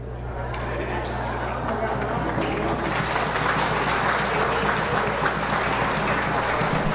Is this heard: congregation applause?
yes